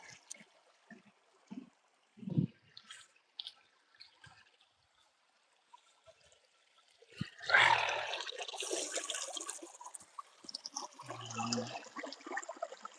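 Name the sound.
cold stream water flowing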